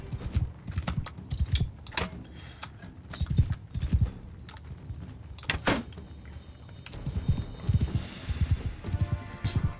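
Horse hooves clopping in the video game Meccha Chameleon, a steady run of close, rhythmic clip-clop strikes with a brief louder burst midway, continuing with other thuds and clatter.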